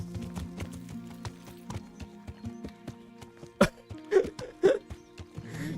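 Horse hooves clip-clop in a steady rhythmic trot in the video game Kingdom Come: Deliverance, with a few louder snorts or whinny-like bursts toward the end and no clear speech.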